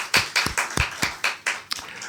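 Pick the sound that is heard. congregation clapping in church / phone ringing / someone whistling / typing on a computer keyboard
congregation clapping in church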